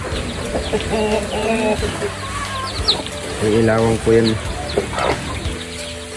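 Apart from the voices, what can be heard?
chickens clucking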